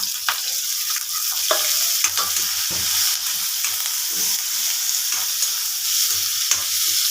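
Onion and curry leaves fry in hot oil for masala chickpeas, a steady close sizzle with occasional stirring clinks and scrapes across the pan, with no voices.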